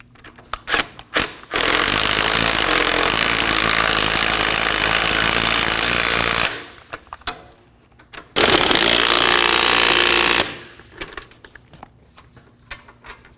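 A power tool snugs the steering knuckle bolts on a 2013-2019 Nissan Sentra, running in two long, loud, close bursts of steady whirring with short clicks and pauses between them and no voices.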